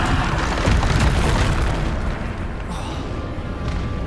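A Bombarda blast spell in Hogwarts Legacy, a dense rumbling boom that rolls on for several seconds, loud and close, with a crackling tail and possible spell voice underneath.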